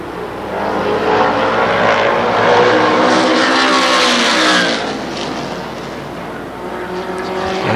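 Race cars at Winchester Speedway roar past at close range with a continuous engine howl that swells and fades as the pack laps the track, loud and dense throughout.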